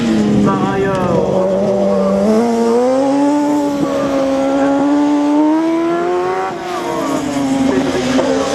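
A small single-seater race car, number 15, on a slalom course, its engine rising and falling steadily as it accelerates between turns, loud and close, with an announcer talking over it.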